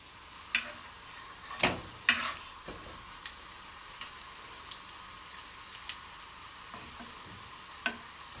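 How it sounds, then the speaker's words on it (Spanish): Chicken empanada frying in hot oil, a soft steady sizzle with scattered pops and crackles spread through the stretch, fairly quiet and with no talking. "ahí se está friendo la empanadita de pollo"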